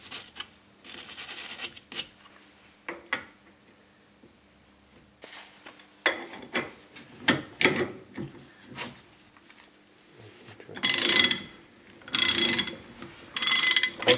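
Heavy truck wrench loosening a screwed cover on a rear brake drum of a Citroën Traction, heard as scattered close metallic clicks and knocks, then three louder sustained ratcheting bursts near the end.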